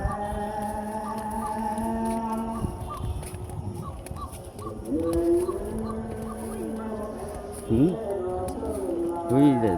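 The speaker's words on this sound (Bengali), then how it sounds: "এই দেখেন একটা ডাউক পাখি ডাকতেছে।" A white-breasted waterhen calls repeatedly in an afternoon outdoor setting with a run of short, rhythmic notes at moderate distance, while a person talks over much of it.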